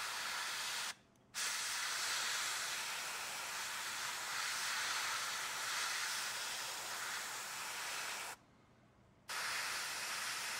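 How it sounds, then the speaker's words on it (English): Airbrush spraying Carbur Crimson wash onto a miniature, a steady broad hiss of air and paint interrupted by two brief pauses, close and fairly loud. "It's a pure wash in an airbrush, and as you can see, I'm applying it from the bottom this time."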